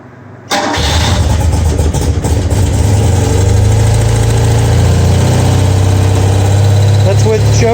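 A BMW R90/6 motorcycle engine cranks and catches after a half-second of quiet, then settles into a loud, steady, slightly uneven idle on choke, close up and running alone.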